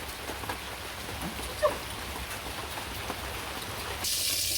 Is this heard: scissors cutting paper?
no